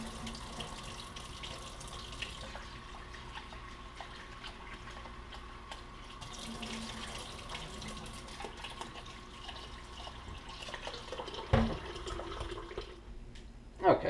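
Water runs and drains from a sink as soaked sushi rice is rinsed in a kitchen, a low steady trickle and gurgle with a couple of sharper clunks near the end.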